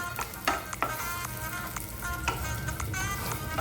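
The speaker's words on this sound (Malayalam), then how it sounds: "ഫസ്റ്റ് നമുക്ക് നന്നായി ചോപ്പ് ചെയ്തെടുത്ത ബദാം ഇട്ട് കൊടുക്കാം അതുപോലെ തന്നെ ചോപ്പ് ചെയ്ത് നട്ട്സും കൂടി ഇട്ട് കൊടുത്ത് ഇത് നന്നായിട്ട് നമുക്കൊന്ന് മൂപ്പിച്ചെടുക്കാം" Chopped almonds and nuts roast in a hot pan for a banana and dry-fruit sweet paratha filling, giving a steady close sizzle with a few sharper clicks and stirring scrapes throughout, no voices.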